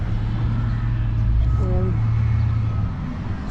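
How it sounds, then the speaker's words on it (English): A tractor pulling a scraper levels ground with a loader working nearby, a steady low engine drone running throughout, loud and close, fading slightly near the end. "they're levelling it out with a tractor and scraper then"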